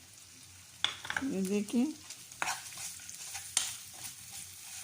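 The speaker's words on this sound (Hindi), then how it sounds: "इसके बाद आप फ्राइंग पैन में चिकन डाल दें और उसको भून लें।" Chicken frying in a frying pan, a low soft sizzle with a few stirring knocks while someone briefly speaks over it.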